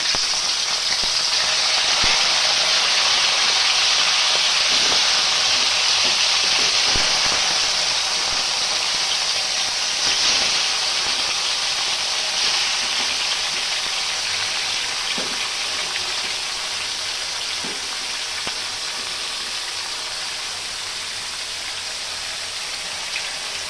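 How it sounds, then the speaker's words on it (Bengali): Meat frying in hot oil with salt added, a loud, steady sizzling hiss that holds without a break and tapers only slightly toward the end, with no talking. "এখন হচ্ছে মাংসটা সুন্দর করে ভাজা হবে"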